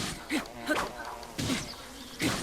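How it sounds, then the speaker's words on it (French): Angry bees swarming out of a smashed hive in Zelda: Breath of the Wild, giving off a buzzing insect drone that swells in several short bursts. "vous faites péter les ruches, les abeilles attaquent les gobelins"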